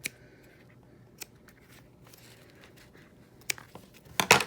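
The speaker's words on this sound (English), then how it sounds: "cut it, and then you can just kind of trim these ends" Scissors snip the loose ends of a woven basket, with a few sparse, crisp cuts early on and a quick cluster of sharper snips at the end, close and quiet, with no talking.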